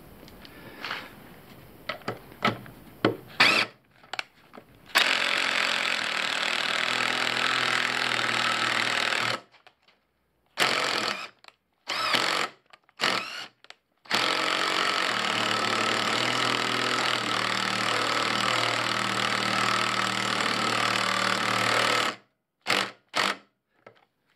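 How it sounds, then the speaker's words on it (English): Power drill boring a small hole and driving screws into an electric-pipe extension on a Scotty downrigger boom: sustained whirring bursts of several seconds each, broken by short trigger pulses and pauses, close and loud. "I'm gonna make a small hole and put a screw here and a screw here."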